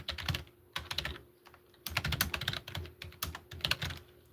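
Someone types on a computer keyboard in quick, uneven bursts of clicking keystrokes, close and clear, with brief pauses between runs and no talking.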